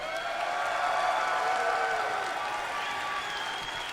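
Audience applauds and cheers a speaker, a sustained wash of clapping with whoops and voices rising above it, fairly distant and even in level.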